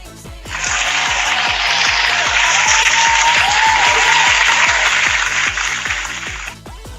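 Golf claps ring out as a steady wash of hand clapping lasting several seconds, sustained and fairly loud, then trailing off, with a rhythmic music beat thumping faintly underneath.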